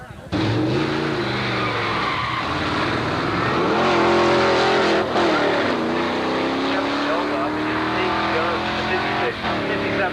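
Drag racing cars at Carlsbad Raceway around 1990, including a Chevy Nova running on nitrous, roar down the strip in a loud sustained engine blast that rises and shifts in pitch, heard alongside an announcer talking over it.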